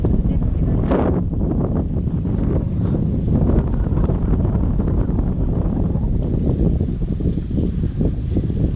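Steady low wind rumble buffeting the microphone throughout, with a constant, blustery roar and no clear speech.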